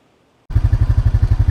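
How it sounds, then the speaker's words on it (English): An ATV four-wheeler engine on a farm fires up after a brief silence, then runs loud and close with a steady, rapid chugging pulse. "I've got the four-wheeler out."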